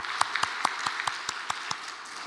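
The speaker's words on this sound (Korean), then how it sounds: "우리 한 박수하겠습니다." A church congregation at a mothers' prayer meeting applauds, a bed of clapping with a regular pulse of louder, evenly spaced claps standing out close by.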